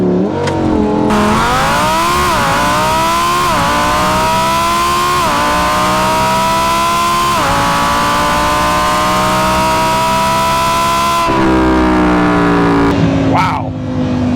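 A Lamborghini Huracan EVO LP640-4 launches hard from a standstill on a 0 to 60 run, its engine roaring loud and close and climbing through several rising gear pulls before easing off near the end.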